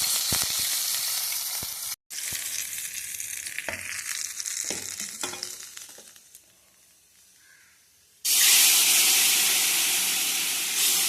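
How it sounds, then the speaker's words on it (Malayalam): Mustard seeds crackle and sizzle in hot coconut oil in a pan while a Kerala drumstick curry is made. A loud, steady frying hiss is broken by brief pops. It drops quieter for a while, then surges back loud. "പിന്നെ നമ്മൾ കടുക് ഇട്ട് കൊടുക്കുകയാണ്"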